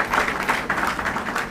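Applause breaks out at a civil wedding ceremony, a dense burst of clapping from the gathered guests filling the room.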